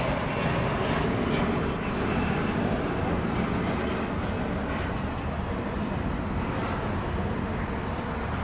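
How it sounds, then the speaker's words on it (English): An American Airlines jet takes off from LAX bound for Chicago O'Hare, its engines giving a steady, broadband roar that holds at constant loudness throughout without any voices. "American Flight 1011 is lifting off for Chicago O'Hare."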